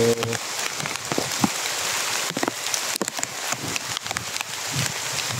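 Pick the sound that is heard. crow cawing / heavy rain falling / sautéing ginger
heavy rain falling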